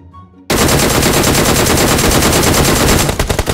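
A DP28 light machine gun fires in PUBG Mobile, a sustained, loud, rapid burst of automatic shots that starts abruptly after a quiet moment and runs for about three seconds.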